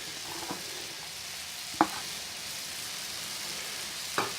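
Okra bhaji frying in a pan with coriander stirred in, a steady sizzle throughout with a few brief clanks of a utensil against the pan.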